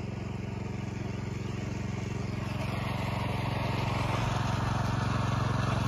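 A tractor runs steadily in a rice paddy during sowing, its engine a constant low rumble close by with no break for the whole stretch.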